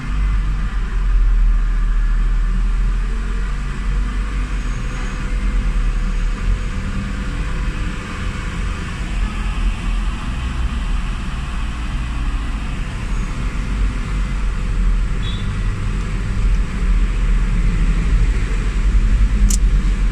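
A car with idle problems, long cranking and black smoke runs at a steady low idle during diagnosis, a continuous loud rumbling engine drone with no clear start, close by and without talk.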